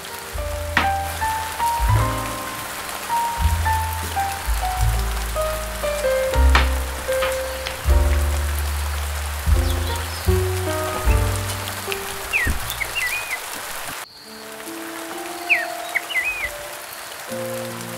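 Steady, light rain falls on wet grass by a handmade bamboo bridge, a soft continuous patter under music.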